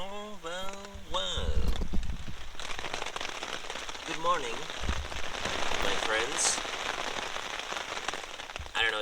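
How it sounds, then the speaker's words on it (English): Heavy rain falls steadily during a bicycle trip through Sweden, a constant wash of drops on surfaces, with someone talking briefly over it at the start. "I don't know if you can hear it, but it's raining. It's raining so fucking much."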